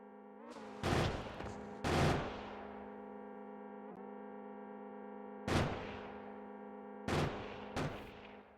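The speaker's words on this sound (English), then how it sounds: "Can I shoot these things?" Gunfire in a video game, heavy booming bursts of shots fired in several separated volleys over a sustained droning hum, with no talk.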